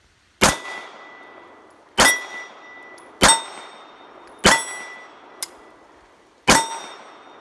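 Six sharp gunshots from a Modele 1935S pistol in 7.65 Longue, each a loud close crack with a ringing metallic tail, fired at uneven intervals of one to two seconds, with a faint click between two of them.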